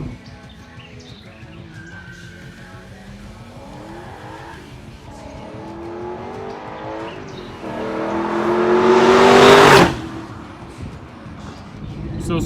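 A 2000 Ford Mustang Cobra R passes a roadside spot, its engine note rising in pitch as it approaches and builds to a loud peak near the end before cutting off abruptly, with birds chirping faintly in the background.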